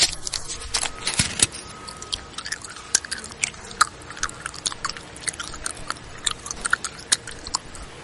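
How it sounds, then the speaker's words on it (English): Someone chews gum close to the mic, with wet, irregular smacks and soft squishes that repeat throughout. "Here you're chewing gum."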